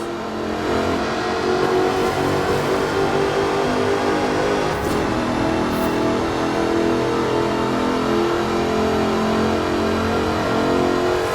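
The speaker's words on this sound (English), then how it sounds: "Powered by a 5-litre V8 supercharged engine, with a fully aluminium body, it's blisteringly fast" A 5-litre supercharged V8 sports car with an aluminium body, driven in the racing game Forza Horizon 4, roars and revs steadily up close, a loud sustained engine drone with rising and shifting pitch throughout, no voices.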